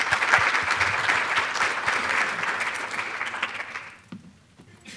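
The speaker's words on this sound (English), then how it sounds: "a round of applause." Audience at a longevity and aging field talk gives a round of applause, dense steady clapping from a crowd that thins and fades out near the end.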